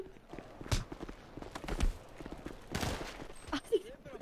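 Gunfire in a video game: a few sharp, clattering gunshot bursts scattered across a few seconds, with some fainter noisy bangs between them, at a moderate level with no talk.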